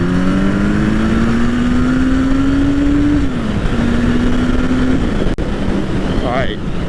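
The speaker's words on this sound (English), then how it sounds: "I'm gonna go for a rip, and I'll tell you where the power band I feel it the most." A 1983 Suzuki GS1100L motorcycle accelerates hard through its gears, engine note rising steadily, dipping at a shift, then climbing again, loud and close with wind rush and no talk.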